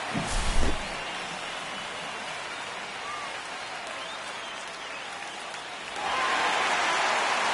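A simulated ballpark crowd in MLB The Show 25 at an Astros vs Angels game cheers after a strikeout: a steady, dense wash of roar and applause with a short low thump at the start, swelling louder near the end, with no voices standing out.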